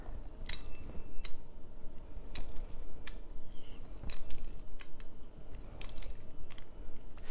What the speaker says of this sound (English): now I'm going to take this pizza cutter. You could use a knife to cut your dumplings.